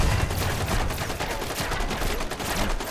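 A colossus enemy in a video game fires a large gun in a sustained, dense barrage of loud, rapid shots with no letup and no talk over it.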